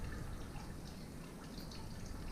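Water slowly gurgling and trickling out of an IH 1700 tractor into a bucket, a faint, low liquid dribble with soft irregular drips, quiet and steady with no talking.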